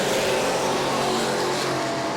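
Super stock race cars racing at New Smyrna, producing a dense, constant roar of engines at full throttle, loud and continuous with no pauses.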